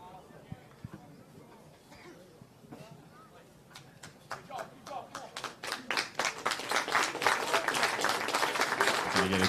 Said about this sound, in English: Going to get a good round of applause here by the crowd.